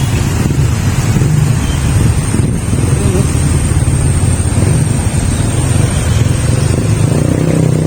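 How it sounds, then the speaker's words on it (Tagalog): Street traffic in Roxas City, with motorcycles and cars, makes a steady low engine rumble and road noise throughout, buffeted by wind on the microphone. "Traffic."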